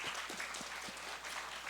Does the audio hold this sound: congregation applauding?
yes